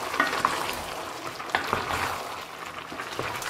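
Veal stew with cherry tomatoes, Provençal style, stirred in a pot: soft continuous sizzling and bubbling with repeated clinks and scrapes of the utensil against the pot, close and moderately loud.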